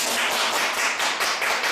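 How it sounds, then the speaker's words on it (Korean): Seminar audience gathered for a talk by a hair salon owner breaking into dense, steady applause, many hands clapping at once without pause, close and fairly loud. "박수가 우렁차네요"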